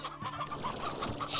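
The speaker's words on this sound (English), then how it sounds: "Chickens?" Chickens clucking in a video game, a short run of close, repeated nasal clucks with a brief break near the start.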